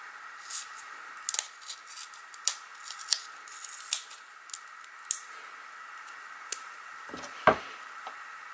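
Scissors snipping through material with a run of quiet, irregular short cuts close by, one sharper snip near the end, in an otherwise hushed room.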